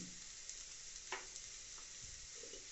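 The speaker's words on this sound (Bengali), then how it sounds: "কাঁচা লঙ্কা পেঁয়াজ দিয়ে ভাজা হচ্ছে" Green chillies and onions fry in oil while a lentil dish is prepared, giving a faint, continuous sizzle with a few soft stirring scrapes and clinks.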